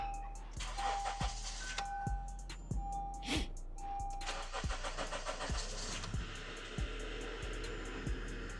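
A car with 122,000 miles on it is cranked over. The starter makes rhythmic, evenly spaced pulses about twice a second under a steady engine hum, recorded up close at a moderate level.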